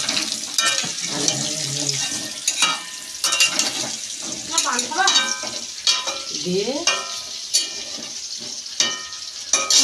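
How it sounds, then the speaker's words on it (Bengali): Potatoes frying in a pan on a home kitchen stove, with steady sizzling broken by scraping stirs and clinks of a utensil, close and fairly loud, with a brief spoken word. "এদিকে আলু ভাজা হচ্ছে"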